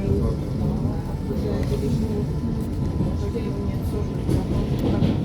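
Steady rumble of a rack railway train riding toward Štrba, a continuous low rolling drone with faint rattles, heard from inside the carriage.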